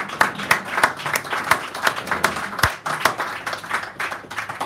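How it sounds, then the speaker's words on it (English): A small audience applauds a poetry reader, close, distinct hand claps forming an uneven, moderately loud patter with no voices over it. "Let's give her a round of applause right now."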